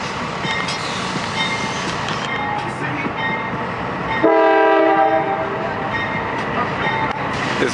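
A big train passes nearby in Valdosta, Georgia, its steady rumble joined midway by a loud, sustained multi-tone horn blast that holds for a few seconds before the rolling noise continues.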